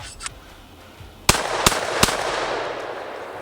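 Gunshots are fired at a wooden target outdoors, three loud, sharp reports spaced under a second apart, with a fainter pop just before them.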